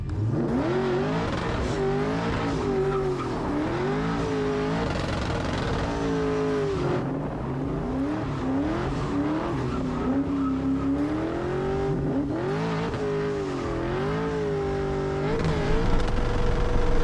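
A Chevelle does a burnout at a low-buck drag event, its engine roaring continuously and loudly for many seconds, with the revs rising and falling under a wash of tire squeal.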